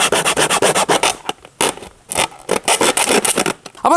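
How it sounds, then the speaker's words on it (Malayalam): A hacksaw blade cuts into the bottom of a bolt, loud close rasping strokes in a quick back-and-forth rhythm, with a few brief pauses between runs of strokes. "നമ്മൾ ഇതുപോലെ ആക്സോ ബ്ലേഡ് ഉപയോഗിച്ചിട്ട് നമ്മൾ ഇതുപോലെ ഇങ്ങനെ കട്ട്"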